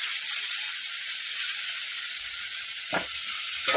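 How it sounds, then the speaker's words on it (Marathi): Toor dal sautés in a hot pan, a loud, even, close-up sizzle that hisses steadily throughout, with a brief stir or scrape near the end. "तर ती छान अशी परतून घेणार आहोत"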